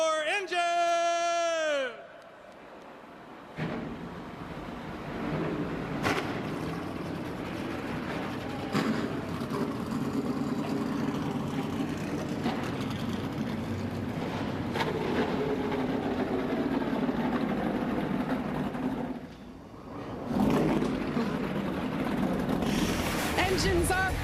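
NASCAR Truck Series race engines fire up and idle together at Circuit of the Americas in Austin, a dense, steady rumble that sustains for most of the stretch, with a short dip partway through and a brief voice at the start.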